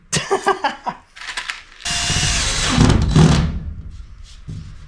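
A power tool dimples material into a battery-room wall, a loud rattling grind lasting a couple of seconds after a burst of short rapid clicks, followed by quieter handling.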